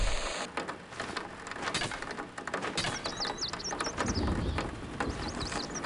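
A bird in the video game Gravity Bone gives a few short, high chirps partway through, over a constant rain-like hiss.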